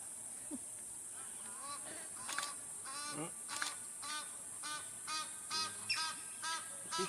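Egyptian geese honking repeatedly in South Luangwa, Zambia, a rhythmic series of harsh, nasal calls at moderate distance over steady insect hiss.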